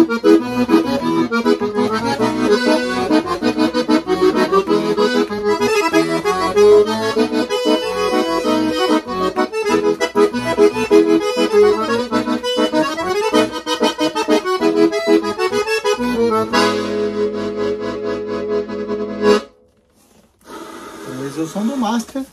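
Scandalli Favo de Mel accordion with Terça Violin tuning, 43 cm keyboard, played on the master register combining bassoon and two clarinet reeds: a dense, sustained chordal melody heard close for about twenty seconds, ending in a brief pause before resuming.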